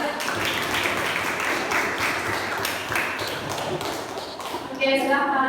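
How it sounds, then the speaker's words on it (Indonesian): Classroom students clapping for a presenting group, a moderate burst of scattered hand claps mixed with taps and shuffling, with a voice near the end. "tepuk tangan dulu untuk kelompok 3."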